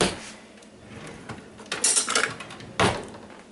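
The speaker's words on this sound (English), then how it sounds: "you want to chop an onion pretty fine" A kitchen knife finely chops an onion for mustard potato salad, giving a few sharp, close clicks and taps on a board, with a louder cluster near the middle and one firm knock toward the end.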